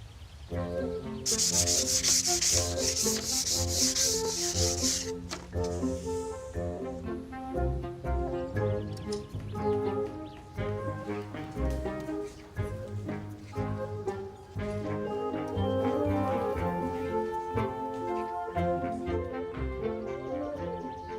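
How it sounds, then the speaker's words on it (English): Wooden strips being sanded by hand in a repair workshop, a loud, close, continuous rasping rub in long strokes, with musical accompaniment running underneath throughout. "I've now managed to get all of the strips nicely sanded."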